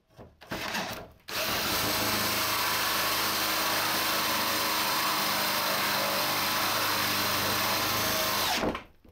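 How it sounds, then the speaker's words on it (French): A Forstner bit bores into wood at the center of an inkwell hole on a wooden school bench under restoration. The drill whines loudly and steadily for about seven and a half seconds after a brief start, then stops. "pour ma mèche Forstner et pour être sûr de bien percer au centre de cet encrier"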